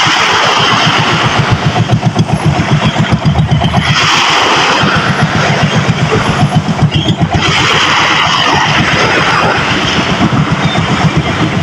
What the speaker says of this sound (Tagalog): tumaandar na po yung bangka ni Tito Deo.